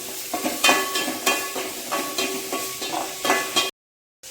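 Tomato frying in oil in a kadai, a steady close sizzle with rhythmic stirring scrapes roughly every half second, ending abruptly in silence.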